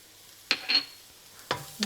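A few brief scrapes and stirs of chopped garlic and thinly cut onions in a hot pan, with a faint sizzle between the short spoon strokes.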